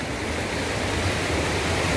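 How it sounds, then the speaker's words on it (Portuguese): Waterfall at Balneário São José in a rural setting: a steady, dense rush of falling water, loud and continuous with no other sounds. "Vou mostrar pra vocês ali como é que tá a situação da cachoeira, que é muito perto aqui."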